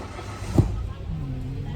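A car engine turns over and catches during a manual-transmission driving test drive, a brief thump and crank followed by a low idling hum, with an instructor speaking over it.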